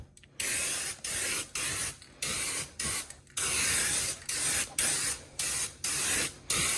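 Flat black spray paint hisses onto car tires in about ten short, evenly spaced bursts, loud and close, with brief gaps between each spray on a budget Chevy rat rod build.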